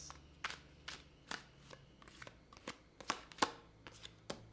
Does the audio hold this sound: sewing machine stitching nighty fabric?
no